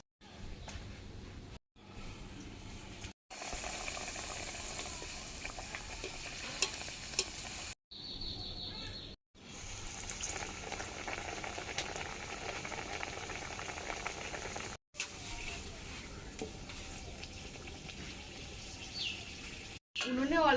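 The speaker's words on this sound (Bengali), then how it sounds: "এইভাবে সব টিফিন নাস্তা রেসিপি আমি তেলে ভেজে নেব" Atta tiffin snacks frying in hot oil over a low flame, with a constant bubbling sizzle and occasional stirring scrapes, broken by brief cuts, and faint birdsong in the background.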